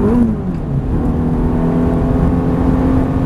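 A Ferrari F430 engine drones loudly and continuously, its pitch slowly climbing as the car accelerates smoothly, heard close from inside.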